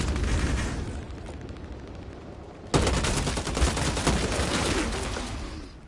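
Rapid gunfire from the player's weapons in the vampire-hunting video game Vampire: The Masquerade, with dense bursts of shots that drop briefly and then return in a louder, sustained volley.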